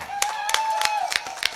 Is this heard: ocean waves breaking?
no